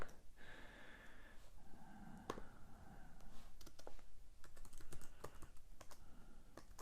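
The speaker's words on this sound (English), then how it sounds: "I would just type down a few things that might allow you to remember what this article should be about" Close, quick keystrokes on a computer keyboard as notes are typed, an uneven patter of clicks with brief pauses and soft breathing in between.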